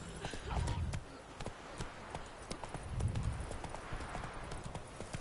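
A horse gallops in The Witcher 3 video game, hoofbeats clip-clopping in a quick, even rhythm with heavier thumps in two bursts, and someone speaks over it.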